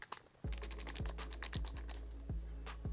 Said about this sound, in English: Using the same 10mm socket, we are going to take off the nut here below the pivot bolt for the brake lever.